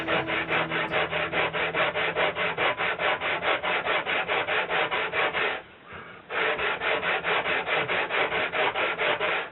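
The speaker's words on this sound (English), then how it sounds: "no point in sanding more than you need to" Rapid rhythmic rasping of sandpaper rubbed by hand back and forth on wood, kerfing and side braces of a guitar, steady and close, with one brief pause before the strokes resume.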